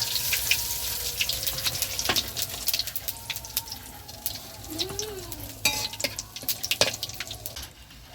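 Bay leaf, dried chilli and whole cumin sizzling in hot oil for tempering a rohu fish curry, a steady close crackling hiss with sharp scattered pops throughout.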